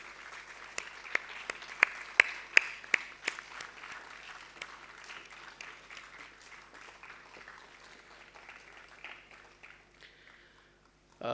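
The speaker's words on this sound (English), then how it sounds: "A big round of applause for Shri Mulay Pakre, please." Audience applause for an award recipient at an institute ceremony, starting with a few loud distinct claps, swelling into a moderate round, then gradually thinning and fading to quiet.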